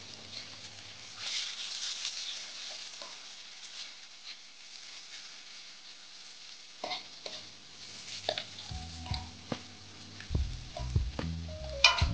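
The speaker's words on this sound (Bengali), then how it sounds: "পেঁয়াজটা হালকা নরম হয়ে আসছে। আমরা খুব বেশিক্ষণ আর ভাজবো না, আর 2 মিনিট ভাজবো।" Three large onions frying in a pan, softening toward light brown, give a faint hiss with scattered taps and stirring knocks that grow busier and louder toward the end.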